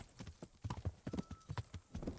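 Horse hooves clip-clop steadily in a quick, even rhythm in the video game Kingdom Come: Deliverance, close and fairly quiet, with no speech over them.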